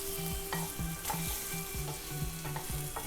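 Spices with a pinch of turmeric sauté in a pan for a Kerala-style chickpea curry, a close steady sizzle broken by a regular rhythm of spoon strokes scraping the pan.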